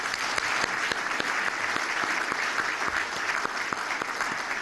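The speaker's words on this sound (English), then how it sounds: "just give all of them a round of applause" Audience at a chamber of commerce breakfast giving a round of applause, continuous close clapping with sharp individual claps standing out throughout.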